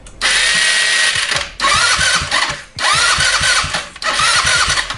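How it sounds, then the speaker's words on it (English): A GY6 scooter engine's electric starter whirs in four separate bursts with brief gaps between them, cranking loudly up close but never catching, due to a failing starter clutch. "Do you have a GY6 engine that sounds like this when you try to start it?"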